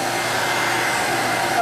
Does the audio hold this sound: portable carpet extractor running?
yes